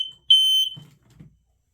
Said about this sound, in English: We done set off the smoke alarm.